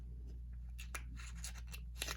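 Scissors jab and snip into the plastic and cardboard packaging of a music album, giving a run of sharp, close crunching clicks at irregular intervals over a quiet background, with no talking.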